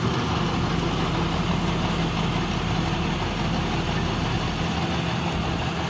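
A tractor engine idles at night in a paddy field during harvest, giving a loud, steady, continuous low drone with no break throughout.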